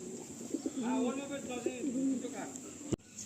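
Chocolate and red dom pigeons coo in a rolling, repeated series of low throaty calls, close by and fairly loud, with a sharp knock near the end.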